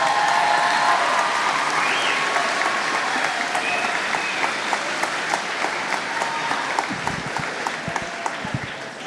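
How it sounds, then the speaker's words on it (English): Sustained applause from a large crowd at a college commencement, steady clapping that fills the space and tapers slightly toward the end. "give yourself some applause"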